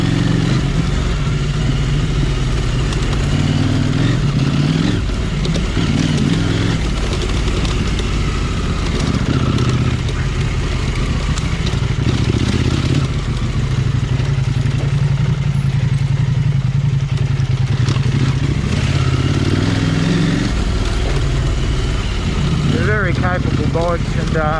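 A KTM 790 Adventure R motorcycle fitted with a Wings slip-on exhaust and a Coober ECU rides over rough terrain, its engine droning loud and continuous with rumble and wind noise, while a rider talks over it.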